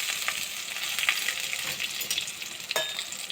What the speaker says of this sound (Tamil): கருவேப்பிலை போட்டுக்கோங்க.